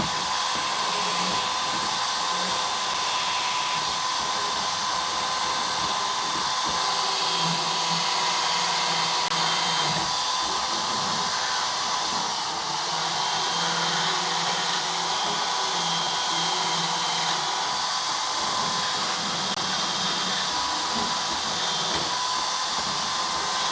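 A tungsten carbide burr grinds rust from the seam where two car body panels meet during a Charger restoration, a steady high-pitched whirring grind running continuously and loud throughout with slight wavering as pressure changes.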